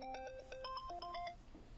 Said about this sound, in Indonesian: Dia menelepon saya kembali.